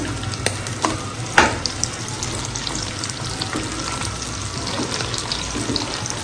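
Beef chops sizzle in a pan, turned with a spoon, giving a constant loud frying hiss with a few clinks and one firmer scrape of the spoon, no voices.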